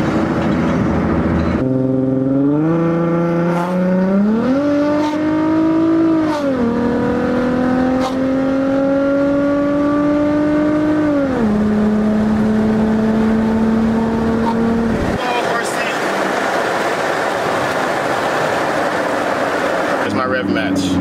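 An Infiniti G35 engine revs up and holds steady as the driver rev matches, a loud droning tone that steps up in pitch, sustains, then drops away into road and cabin noise.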